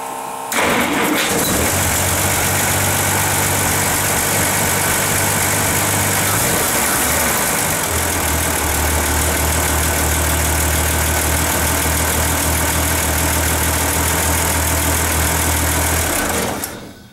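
A Studebaker hot rod engine runs loudly and steadily close by, a dense continuous roar that settles into a deeper, fuller tone partway through before cutting off at the end, with no talking.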